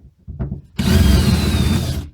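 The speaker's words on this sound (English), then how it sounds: "Obviously got to be careful that I don't drill too far" A few scraping taps, then a power drill whirs loudly and steadily into metal, drilling out a rivet head on a 1977 Range Rover Classic rear floor, for over a second before cutting off.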